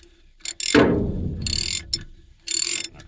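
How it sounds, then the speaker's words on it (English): A 3/4 inch ratchet turns a socket while a stock trailer's brakes and bearings are being reworked, giving two bursts of quick metallic clicking with a heavier clunk between them, close and loud with no talk. "This happens to be a 3/4 inch ratchet."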